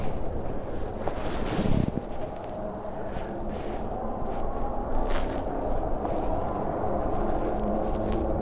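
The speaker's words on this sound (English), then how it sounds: "It's blowing a wind." Wind blows during a motorcycle ride, a continuous heavy roar and buffeting against the microphone that rises in gusts and stays loud throughout, with no speech.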